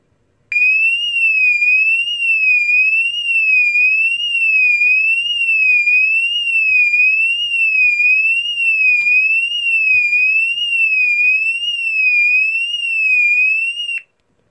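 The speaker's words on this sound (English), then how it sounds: "British standards high frequency slow sweep, which is 2400 Hertz to 2400 Hertz to 2900 Hertz at" An E2S A100DC24R alarm sounder plays its British standard high-frequency slow sweep, a loud, pure, piercing tone that rises and falls smoothly about once a second and runs steadily for roughly thirteen seconds before cutting off.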